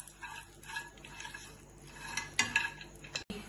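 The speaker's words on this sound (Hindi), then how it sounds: "हमें सभी ड्राई फ्रूट्स जो इसमें इस्तेमाल करने हैं उसको हम थोड़ा थोड़ा भूनेंगे।" Dry fruits such as cashews are roasted for a Navratri mewa pak sweet and stirred in a pan with a spoon, giving soft scraping sweeps and a few sharp metallic clinks near the end.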